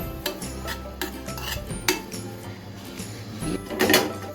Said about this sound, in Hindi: ये देखिए, अब मैं तिल भून रही हूँ।